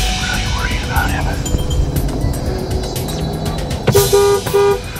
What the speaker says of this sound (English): I'm honking to try to get his attention.